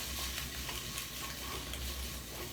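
Food stirred in warm oil in a pan, close and steady: a continuous sizzle with soft scraping stir strokes recurring through the stretch, and no voices.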